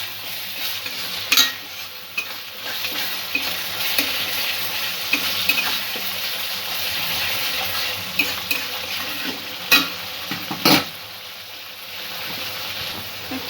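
Chhena bora curry with a spoonful of yogurt is stirred in a pan, spoon scraping steadily over a bed of sizzling frying for the whole stretch, with a few sharper clinks of the utensil against the pan.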